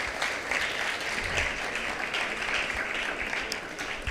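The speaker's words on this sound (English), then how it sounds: "Can I have another round of applause for all our speakers?" An audience at a college summit applauds its speakers, a steady, dense round of clapping that holds evenly for the whole stretch without voices rising above it.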